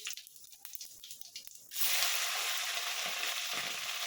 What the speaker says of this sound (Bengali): চিংড়ি মাছটা আমি একটু লাল করে ভেজে নেবো, বেশি লাল করবো না, অল্প লাল করবো।